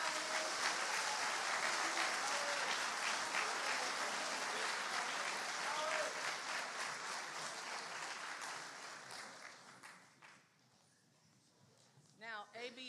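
A high school awards audience applauds honor students with dense clapping that gradually thins and fades after about eight seconds, scattered voices and cheers mixed in, before a person begins speaking near the end.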